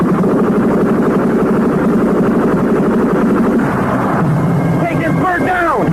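Heavy, continuous rumble of military aircraft and battle noise in a Vietnam War film about Hamburger Hill, loud and unbroken throughout, with sharper whining tones appearing toward the end.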